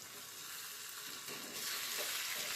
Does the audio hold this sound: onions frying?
yes